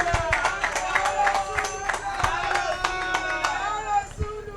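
Council audience members clap for the Vice Chairman at a formal gathering, a steady patter of applause with sharp individual claps over background voices and a faint tonal hum.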